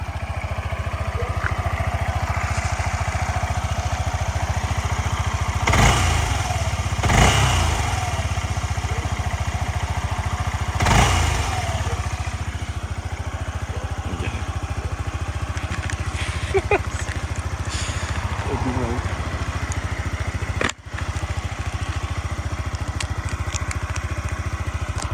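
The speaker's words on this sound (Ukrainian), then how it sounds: "двигунчик гарно працює, ніяких питань в принципі, взагалі по роботі двигуна в мене немає" A Yamaha Majesty 155 scooter engine idles with a steady, close hum, broken by a few brief throttle revs early on and one more near the middle, then settles back to a smooth idle.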